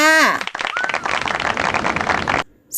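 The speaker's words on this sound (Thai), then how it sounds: "ปรบมือเป็นกำลังใจให้คุณแม่สาวิตรีค่ะ" Applause breaks out in support of Mother Sawitri, a dense crackling clatter of many hands sustained for about two seconds, opening over a voice and cutting off abruptly near the end.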